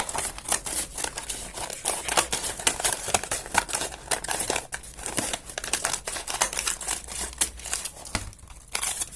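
Paper crinkles and scissors snip as the spiky parts are cut off a paper samurai helmet, a close, busy run of crackling and crumpling bursts without talking.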